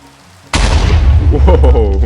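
A sudden deep explosion of a super TNT in Minecraft bursts in after half a second of quiet, followed by a loud rumbling roar that lingers to the end.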